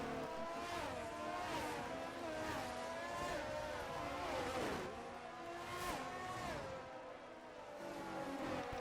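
Eighteen race cars on a formation lap in a racing video game at the Spain round, several engines droning and rising and falling in pitch as they pass, continuous and fairly quiet.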